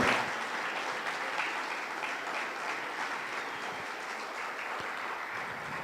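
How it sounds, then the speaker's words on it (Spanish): Members at an anniversary meeting in Pachuca applaud a newcomer, a dense, even wash of clapping that fills the room steadily from start to finish with little talk. "Un aplauso, por favor, ahí atrás, como nuestro compañero."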